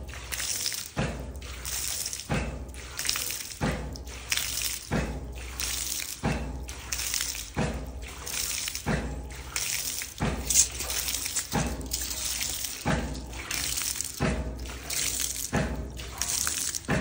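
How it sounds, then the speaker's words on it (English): Water pours over from a ram pump setup in a steady splashing stream, punctuated by regular rhythmic surges about every second and a half as the pump cycles, close and without talk. "we're not using the whole 10 gallons a minute because it's pouring over"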